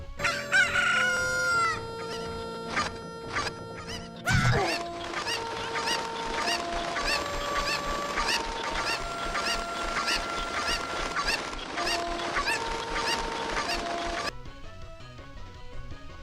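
Chickens from a Zelda video game clucking and crowing over a bright melodic game music loop, fairly loud, with rhythmic notes repeating steadily and a sharp change partway through.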